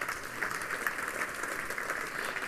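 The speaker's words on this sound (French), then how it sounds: "On peut l'applaudir, Vincent Leclerc" Steady, moderately loud audience applause welcoming a speaker at an evening conference on artificial intelligence, an even wash of many clapping hands lasting the whole moment.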